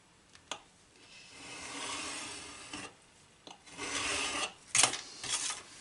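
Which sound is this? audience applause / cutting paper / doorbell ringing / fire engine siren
cutting paper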